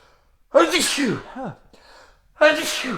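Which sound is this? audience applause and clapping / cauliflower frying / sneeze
sneeze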